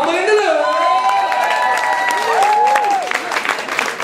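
An audience in a café in Antwerp claps and cheers for a live music act, a dense burst of crowd noise with whoops under a loud, sung or shouted voice, fading slightly near the end.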